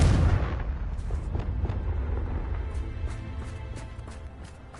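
A Confringo blasting spell explodes in a Hogwarts video game, one loud booming blast at the start followed by a rumbling decay and a scatter of crackling debris pops fading over several seconds.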